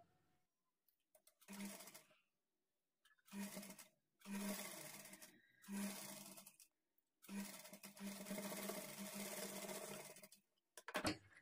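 A sewing machine stitches a small frill onto a high neck blouse, running in about five quiet bursts of rapid mechanical whirring separated by pauses, close by with no talk over it.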